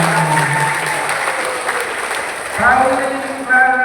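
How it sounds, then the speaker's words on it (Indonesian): Lively applause from a crowd at a junior high school graduation announcement, a dense burst of clapping that keeps going as a voice begins speaking over it. "tepuk tangan dulu"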